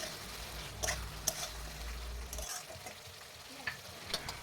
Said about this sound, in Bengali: দিয়ে দিচ্ছি মাছের যে থুতনিটা রয়েছে সেটি এটিকে আমি ভেজে নিইনি যার কারণে এটাকে আমি কষিয়ে নিচ্ছি